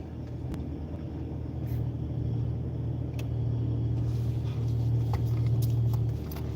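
A car engine starts and settles into a steady low idle rumble that slowly grows a little louder, with faint clicks and small knocks from inside the cabin.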